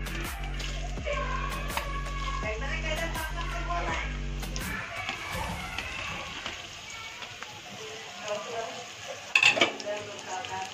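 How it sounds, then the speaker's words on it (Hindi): Onions go into hot oil for an egg recipe, and a spreading crackle and sizzle follows after a stretch of rhythmic utensil tapping. A few sharp metallic clinks from a spoon on the pan come near the end. "ऑयल अच्छे से गर्म हो चुका है, तो सबसे पहले इसमें डालेंगे प्याज।"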